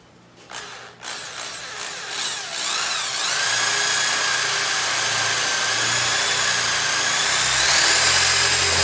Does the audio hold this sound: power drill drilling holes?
yes